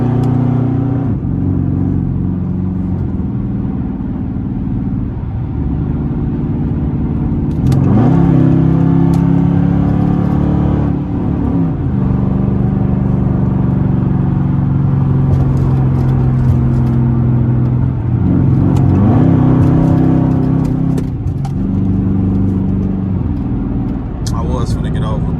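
A Chrysler 300C with a Hemi V8 pulls hard under acceleration, its loud engine note climbing and dropping through sharp, banging gear shifts, heard from inside the car.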